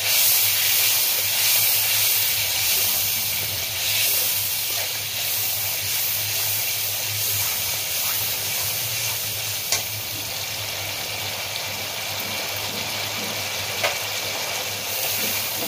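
Mustard paste goes into a hot pan of oil for a traditional hilsa dish and is stirred, giving a steady loud sizzle and hiss with occasional faint scrapes of the utensil.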